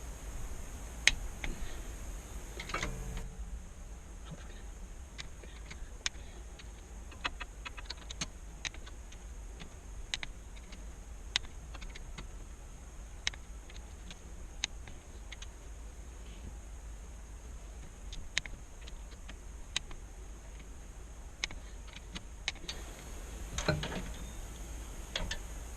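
Plastic snaps on a Regal cuddy cabin boat cover being pressed into place, giving sparse, sharp little clicks spread at irregular intervals over a quiet background, with no talking.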